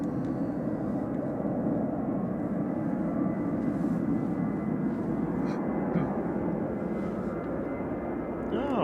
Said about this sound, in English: Ryanair 561 over to Dublin, 9HQDR departing now